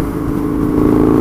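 A Husqvarna Nuda 900R motorcycle engine fitted with a slip-on exhaust, with a loud, steady, deep throbbing drone and no break.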